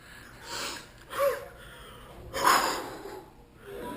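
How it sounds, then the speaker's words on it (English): A hunter breathes heavily after a big boar passes close by, struggling to catch his breath with several sharp, snorting gasps and wheezy exhales rising and falling close to the microphone. "that guy seems to have a hard time catching his breath"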